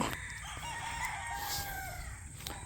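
A rooster crows once in a long drawn-out call, somewhat distant, over steady outdoor background noise with no talking.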